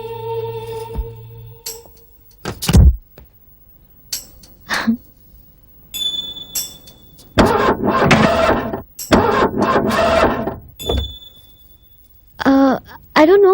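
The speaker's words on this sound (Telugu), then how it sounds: "బట్ సడన్ గా కార్ స్టార్ట్ అవ్వలేదండి." A car engine cranks in two rough, grinding bursts of a couple of seconds each but never catches. Scattered voices, sighs and knocks come before and after the attempts.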